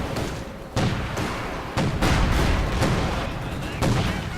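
Tank and infantry gunfire in the Company of Heroes 2 strategy game: a steady battle din with several distinct booming shots spaced about a second apart, moderately loud.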